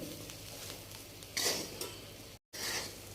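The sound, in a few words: stirring okra (bhindi) with spices in a pan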